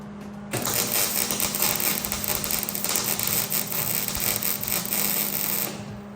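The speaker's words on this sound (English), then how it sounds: "We gonna get this bitch welded up" Arc welder running a bead on an abandoned drift car, a steady close crackling sizzle with a constant hum that starts abruptly after half a second and holds for about five seconds before cutting off.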